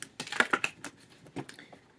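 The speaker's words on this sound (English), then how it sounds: "as I am shuffling these cards, I'm using my my Tarot Sutra, okay, deck for your sexual energy" Tarot cards from a deck are shuffled close up, a series of quiet crisp riffling clicks and flaps in irregular bursts, with no voice.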